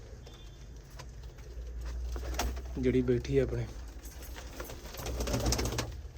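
A captured female pigeon gives a brief, soft coo at close range, partly under someone talking nearby over a low background hum.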